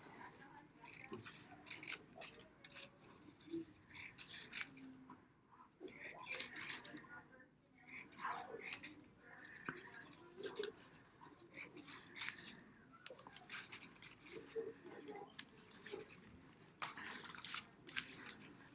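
Scissors snipping fringes into a rawhide parfleche: repeated short, crisp cuts in uneven bursts, close and soft, with a quiet voice speaking between them.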